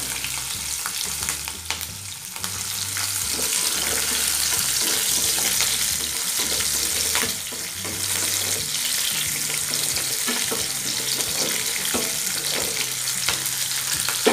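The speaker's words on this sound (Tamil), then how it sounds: "வெங்காயம் நல்லா வதங்கட்டும்." Onion, curry leaves and green chilies sauté in a pan for sambar, giving a continuous, loud frying sizzle with occasional stirring scrapes and a low hum beneath.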